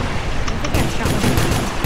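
Gunfire in a Roblox video game crackles in rapid, dense bursts that start partway through and continue to the end, loud and close with a busy game background.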